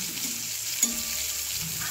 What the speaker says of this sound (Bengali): আর আমি এখন পটল ভাজছি, কতটা তেল দিলাম দেখো